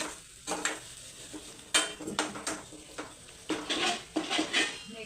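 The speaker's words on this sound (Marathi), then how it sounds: "आता या मसाल्याला पण आपण मिक्स करून घेऊया." Masala is stirred in a cooking pan over a low flame for dry chicken, with repeated close scraping and clinking of a spoon against the pan over a faint sizzle.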